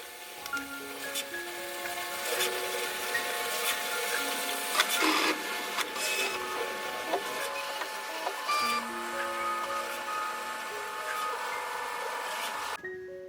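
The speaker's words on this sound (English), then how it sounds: "Right now the nozzle is cleaning." A QIDI Tech Plus 4 3D printer cleans its nozzle, its stepper motors whining in shifting tones with steady mechanical movement that continues for the full stretch, ending in a short pause before the motion resumes.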